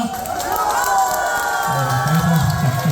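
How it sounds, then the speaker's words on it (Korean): Crowd on a Chinese cruise trip cheers and whoops as a janggu-playing guest singer is welcomed on stage, a loud, steady roar of voices with shouting rising near the end. "박수와 함성을 크게 해주시면 나가겠습니다"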